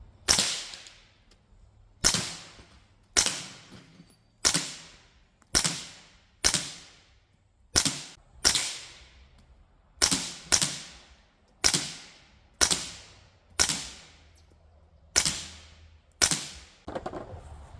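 Suppressed rifle shots fired outdoors at a range, about fourteen sharp cracks at fairly even intervals over roughly eighteen seconds, each with a short decaying tail, and no talking.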